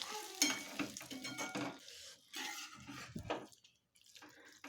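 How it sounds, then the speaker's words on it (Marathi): Quiet stirring of carrot halwa in a pressure cooker, with soft scraping and gentle sizzling in uneven strokes, close and low in level, no talking. "सर्व व्यवस्थित हलवून घ्यायचं"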